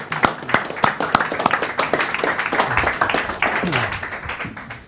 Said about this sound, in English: let's give a warm round of applause for our guests